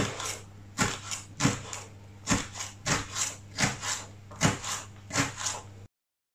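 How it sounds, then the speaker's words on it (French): Crisp knife strokes chop a bell pepper on a cutting board, about a dozen sharp, close taps in a fairly even rhythm, each a short thud against the board, heard alone before an abrupt stop. "Donc je coupe le poivron dans sa longueur."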